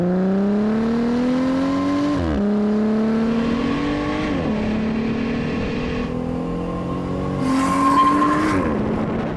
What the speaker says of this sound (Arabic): نعطيكم دوسة من ار بي ام واطي، اسمع الصوت